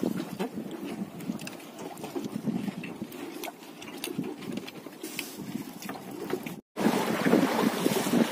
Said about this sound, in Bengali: আর নদীতে কিন্তু প্রচন্ড ঢেউ হচ্ছে বন্ধুরা, প্রচুর পরিমাণে ঢেউ হচ্ছে নদীতে।